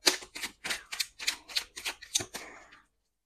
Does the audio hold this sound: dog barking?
no